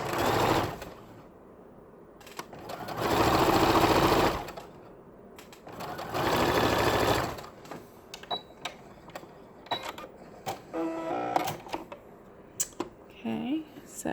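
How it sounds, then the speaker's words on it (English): Sewing machine running in bursts while stitching bias binding along a fold line, two sustained whirring runs of a couple of seconds each, followed by someone talking close by. "I'm going to stitch right along that first fold line."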